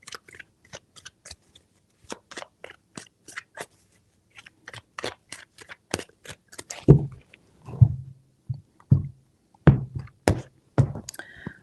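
Tarot cards being shuffled by hand, a series of sharp, close, irregular flicks and riffles, then heavier thumping taps as the deck is squared and shuffled again, no talk.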